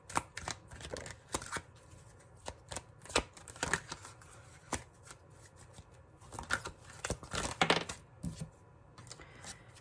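Playing cards shuffled for a card reading, a series of close crisp riffles and flicks in irregular bursts, with quiet pauses between them.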